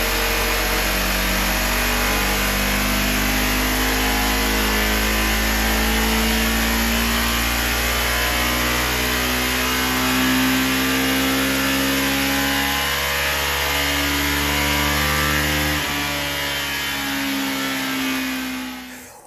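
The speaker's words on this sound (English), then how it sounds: "it's hard to hear the bike because it's a little bit away, but you can hear it hiccuping and stuff" Ducati Hypermotard 698 Mono RVE single-cylinder engine running on a dyno with a rough, hiccuping exhaust, revving up in a long sustained sweep that stumbles and steps down near the end, loud and continuous.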